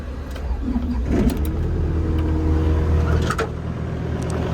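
The diesel engine of a Yanmar ViO80 excavator cranks from cold and catches, then settles into a loud, steady rumbling idle close by, with a few clanks over it.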